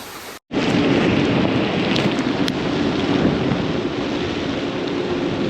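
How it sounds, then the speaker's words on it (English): Rushing water of a small stream in the pouring rain beside a tent at a stealth campsite by a church in Italy, a steady loud broadband wash with no voices. "Little stream."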